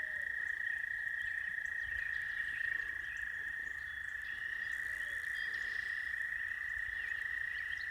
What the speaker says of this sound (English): Frogs really making noise today.